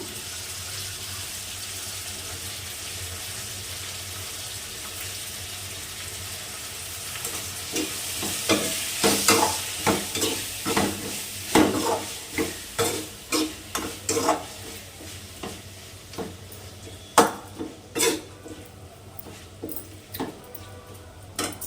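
Prawns with tomato and ginger fry in a pan under a continuous sizzle. After a quieter start, a spoon scrapes and clinks against the pan in a quick, irregular series of stirring strokes.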